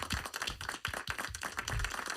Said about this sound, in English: Send your radio waves, your warm round of applause for our special guests